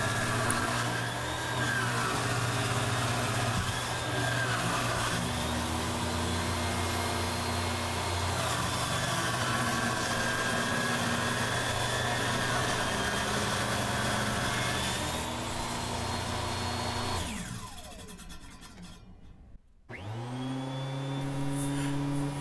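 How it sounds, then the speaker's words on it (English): Small power saw cutting through a thick chunk of mahogany: a loud, steady whining motor drone that strains under load for a long stretch, then dips and stops briefly before spinning back up near the end. "You can hear the little saw struggling to get through this chunk of mahogany"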